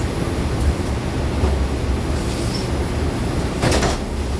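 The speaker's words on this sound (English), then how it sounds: "This is a Bronx bound 5 express train." A Bronx-bound 5 express subway train in New York City gives a loud, steady rumbling roar, with a brief sharp squeal near the end and no voices.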